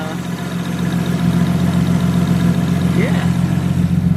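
A Nissan R33 Skyline engine idles steadily with a low, constant hum throughout, fairly loud, with faint background sounds and no speech.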